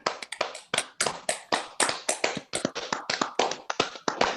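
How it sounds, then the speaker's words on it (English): Participants at the close of an online meeting clap over their microphones, a loose run of sharp, separate hand claps that are close and clear, overlapping unevenly against a quiet background. "And now let's give ourselves a very big applause."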